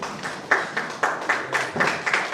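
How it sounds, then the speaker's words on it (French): A church congregation at a women's convention applauds together, a dense wash of clapping from many hands with sharper bursts, heard from a moderate distance in a reverberant hall. "Applaudissons la parole du Seigneur."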